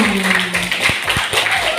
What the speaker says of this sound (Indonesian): Oke, kasih tepuk tangan untuk kita semua.